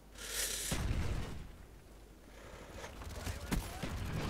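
A grenade blast in a first-person shooter game booms loud and broad at the start, then fades into rumbling game noise with a sharp pop near the end.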